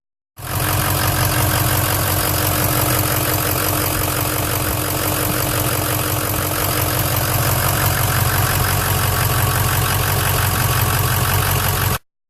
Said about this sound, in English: Here's an example of how loud the A1000 is inside the truck.